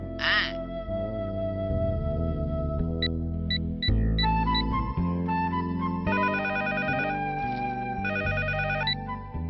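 An electronic phone ringtone chirps in repeated tonal bursts over a busy musical background, close and fairly loud.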